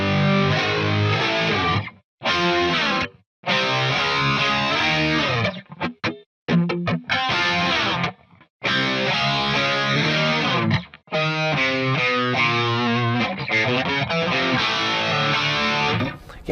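Electric guitar played through a Headrush MX5 pedal on a two-amp high-gain distortion preset, loud compressed chords and riffs ringing out with brief silent gaps between phrases, no talking.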